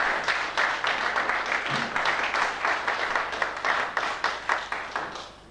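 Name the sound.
round of applause for the groundsman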